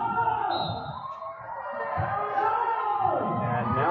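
Crowd of visiting fans at a football match between Arizona Impact and Colorado Inferno FC, a broad steady roar of voices and cheering that swells around the midpoint and holds loud to the end.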